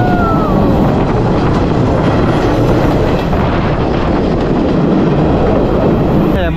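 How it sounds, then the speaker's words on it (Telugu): A passenger train on the Kandy to Ella line in Sri Lanka rumbles steadily at speed, recorded from aboard, with continuous loud wheel and carriage noise and faint clickety-clack under it. "ఈ ట్రైన్ స్పీడ్ చూసారా"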